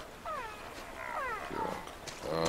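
A bear in the prehistoric game Far Cry Primal lets out a series of drawn-out, wavering roaring cries, moderately distant and rising and falling in pitch, one call following another over a low rumbling background.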